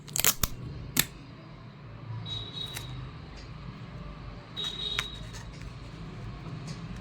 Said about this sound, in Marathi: त्यावेळेस तिथं चिकट टेप लावून घ्यायचं आहे आपल्याला